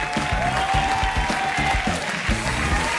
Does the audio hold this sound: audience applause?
yes